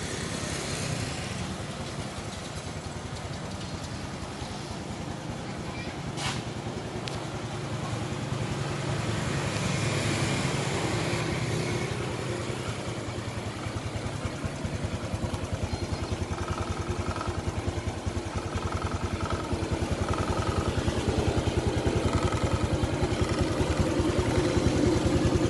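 A white Honda Future LED motorcycle idles in a shop, its steady, smooth engine hum holding at a moderate level from start to finish with light clatter and faint background activity.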